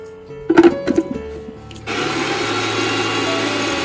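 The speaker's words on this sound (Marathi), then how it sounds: "आता आपण मिक्सरच्या भांड्यामध्ये वेलची बारीक करून घेते थोडीशी साखर पण टाकली" After a few light clinks, an electric mixer grinder switches on and grinds cardamom with a little sugar, settling into a loud, steady whirring hum that runs to the end.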